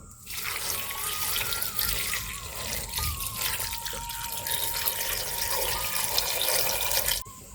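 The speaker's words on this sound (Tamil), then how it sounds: "தண்ணி ஊற்றி விடணுமே. ஊற்றுங்க." Water pours steadily into a cooking pot, a continuous trickling splash that holds for about seven seconds before stopping abruptly, close and fairly loud.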